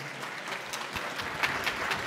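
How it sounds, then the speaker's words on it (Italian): Applause from attendees at the inauguration of a restored church, San Nicola di Mira, a brief stretch of scattered clapping with distinct individual claps rising slightly toward the end, no speech. "un applauso, no?"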